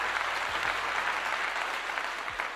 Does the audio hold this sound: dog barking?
no